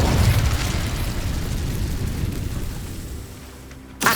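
A roaring fiery burst from the Incendio spell in Hogwarts Legacy erupts loudly, rumbles and slowly fades over several seconds before a fresh sharp blast hits at the very end.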